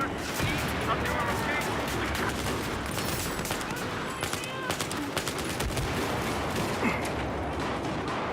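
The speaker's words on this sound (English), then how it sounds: "I'm eyes on a hostile machine gunner." Rapid machine-gun bursts and scattered gunfire clatter through a military video game, dense and sustained, with mechanical rattles mixed in.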